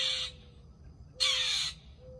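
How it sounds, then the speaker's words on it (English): A crow caws twice outside a house, two harsh, loud calls about a second apart with a steady faint tone and quiet background between them. "Y'all, this bird has a death wish."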